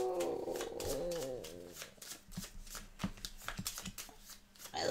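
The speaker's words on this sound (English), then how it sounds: "And now we shuffle up, I guess." Board game cards for Pandemic Legacy Season 0 being shuffled at a table, with a brief voice-like murmur at first, then a run of close, papery riffles and taps.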